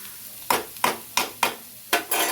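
Hot oil sizzles in a pan with a series of sharp crackling bursts at a steady rhythm as mustard seeds pop and spices fry.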